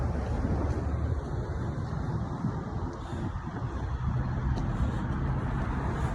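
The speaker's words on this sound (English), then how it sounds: "I'm surprised there's traffic on Teaneck Road." Cars pass along Teaneck Road, a steady broadband roar of tires and engines rising and falling gently, heard outdoors from the roadside with no talking.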